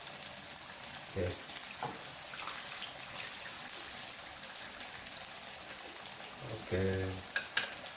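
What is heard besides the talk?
ground spices stirred with chilies in pan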